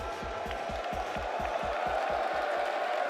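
An esports arena crowd at the Rocket League Paris Major, cheering and roaring as a broad steady wash of noise over a regular pounding low beat of about four thumps per second.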